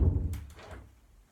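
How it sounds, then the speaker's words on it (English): A door is pushed shut indoors in a quiet exercise room, giving one close, low thump followed by a brief, fading rattle. "And close this door."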